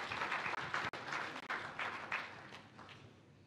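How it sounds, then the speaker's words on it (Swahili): An audience applauds at a Tanzanian press freedom day ceremony attended by President Samia Suluhu Hassan. The clapping is steady, broad and sustained from a crowd in a large hall, and it fades slightly toward the end. "Makofi tafadhali."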